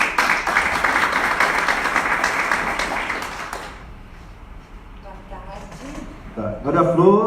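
Applause from a seminar audience welcoming a speaker to the panel, a dense burst of clapping lasting a few seconds before fading, then a voice begins talking.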